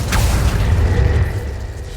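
The Incendio fire spell cast in Hogwarts Legacy gives a single deep whooshing boom with a short rising swish at the start, then a fading low rumble over about two seconds.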